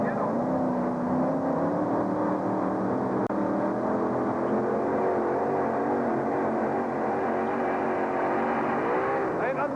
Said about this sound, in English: Slack is out, track is green, and Temporary Insanity is coming at you.